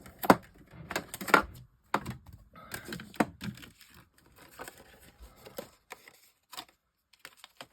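Paper pieces for a card are cut out at close range: irregular crisp snips and light taps, some clustered and some spaced out, with brief pauses in between and no talking.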